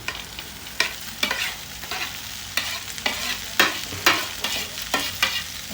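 Okra frying in a pan while being stirred, a steady sizzle broken by regular scraping strokes of the spoon every half second or so, close and fairly loud.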